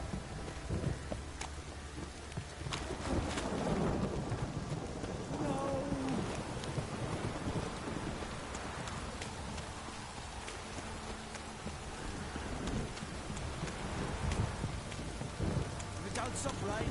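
Steady rain pouring in The Witcher 3 game world, a dense hiss of falling drops with low rumbles like distant thunder, continuous throughout, with faint voices now and then.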